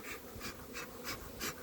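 Honey bees at an apiary hive, a faint buzzing that swells in soft, regular pulses about every third of a second over a quiet background.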